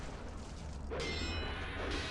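A gong struck in the RUNE video game rings out in one metallic clang with a shimmering, sustained tail that holds for about a second over low ambient game rumble.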